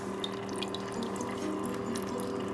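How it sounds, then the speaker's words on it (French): Water hissing steadily through a Trixie Reptile Rain misting system spraying into a tropical gecko terrarium, a constant close spray with faint pump hum and no talk. "je l'ai relié au secteur, et voilà, l'eau qui passe."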